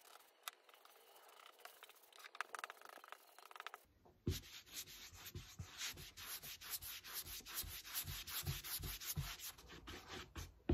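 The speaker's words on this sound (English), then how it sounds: "I am brushing and then buffing the wax quite vigorously, just to slightly distress the areas around the decoupage." Vigorous buffing of clear wax over a painted wooden tray made from a cupboard door, a close, steady rapid rubbing and scrubbing that starts after a quieter brushing stretch and continues with rhythmic strokes.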